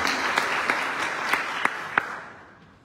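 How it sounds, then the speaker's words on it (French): Applause from a church congregation at a Sunday Mass, a steady wash of many hands with a few louder individual claps standing out, fading away toward the end. "On les applaudit."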